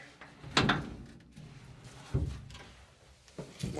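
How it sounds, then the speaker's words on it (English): Three short clunking knocks of a Willys Jeep door being worked open, spaced a second or so apart, close by and fairly quiet. "see if that door opens"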